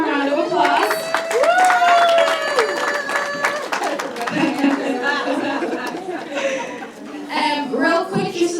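An audience at an elected officials panel discussion claps to welcome the moderator. Moderate applause sits under steady crowd chatter and a few laughs, with talking throughout.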